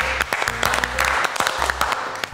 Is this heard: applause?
yes